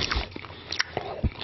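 Moist smacking and soft crunchy bites while someone chews salmon close to the mic, a quick run of wet mouth sounds.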